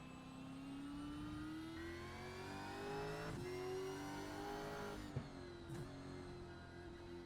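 Gen 3 Supercar in iRacing at Zandvoort, engine revving and climbing steadily through the gears with a sharp shift blip or two, loud and continuous.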